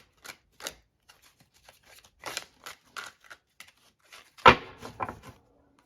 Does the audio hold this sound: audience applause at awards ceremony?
no